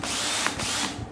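A 12V cordless hammer drill, Makita or Hitachi, whirs loud and close in one continuous burst, its pitch wavering briefly before it tails off.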